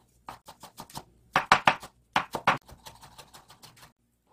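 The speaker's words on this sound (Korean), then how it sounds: "여기에 들어갈 파는 아주 곱게 다져줘야 돼요" Knife finely mincing green onion on a cutting board, crisp rapid chops in uneven bursts, loudest in a pair of clusters mid-clip, then a lighter trailing patter, close and without talk.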